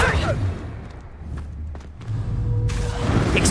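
A Confringo blasting spell strikes in Hogwarts Legacy, giving heavy thuds and whooshing impacts over a dense rumble of combat noise, with a loud burst near the start and another swell toward the end.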